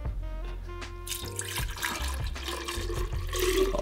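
Liquid for a chocolate stout brewed with cacao nibs is poured into a brewing vessel, a close splashing, gurgling flow that starts abruptly after a second and keeps running steadily.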